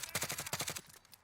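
Rapid burst of automatic gunfire from the Warzone video game, about eight close, sharp shots in quick rhythm, then a pause and a fainter trailing shot.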